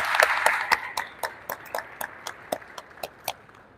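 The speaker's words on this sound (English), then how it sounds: "Let's give our architects a round of applause" Sparse applause from a small crowd at an outdoor school groundbreaking ceremony for the architects, distinct individual claps in an uneven patter that slowly thins out, moderately close.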